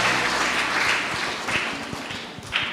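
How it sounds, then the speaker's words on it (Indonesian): Church congregation applauding an elderly grandmother during a Sunday service, a steady wash of clapping that swells and fades over a few seconds with low organ-like tones underneath. "tak kasih tepuk tangan sama nenek ya"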